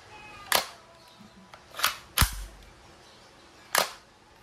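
A KWC CO2-powered steel-ball submachine airgun set to full auto gives four sharp, isolated pops spaced irregularly over a few seconds, close and moderately loud against a quiet background, with no talking.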